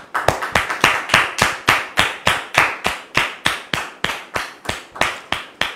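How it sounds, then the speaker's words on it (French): A studio audience claps to welcome a pastor onto a set, though it sounds more like one or a few pairs of hands clapping in a steady, loud, even rhythm at close range, with no voices. "nous recevons maintenant le pasteur Jacques sous vos applaudissements"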